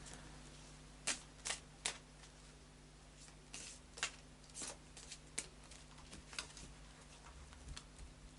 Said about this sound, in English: So I'll just do a final shuffle now of the cards.